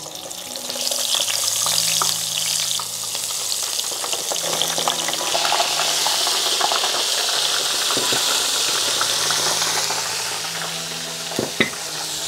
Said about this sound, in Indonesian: Ini minyaknya udah panas, sekarang kita goreng tempenya.